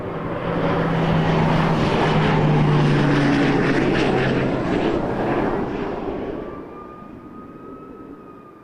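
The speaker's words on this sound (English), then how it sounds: "Air Canada 629, a Max 8 from Fredericton coming in next" An Air Canada Boeing 737 Max 8 from Fredericton lands at Toronto Pearson, its engine roar loud and close, swelling then fading away as it passes.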